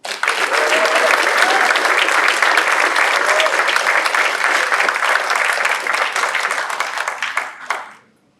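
Lecture-hall audience applauding to welcome a guest lecturer at a college event, a dense, sustained burst of clapping from many hands that holds steady before fading out.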